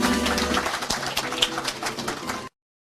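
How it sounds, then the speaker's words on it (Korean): A crowd at a Korean award presentation bursts into steady applause, many hands clapping together for a couple of seconds before cutting off abruptly. "뜨거운 박수 부탁드리겠습니다"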